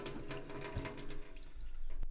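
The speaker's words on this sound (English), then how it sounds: "Not a whole lot of water coming out of this thing" Water runs from a kitchen faucet with a faulty cartridge as a weak, thin stream, a steady close splashing and trickle with no voices.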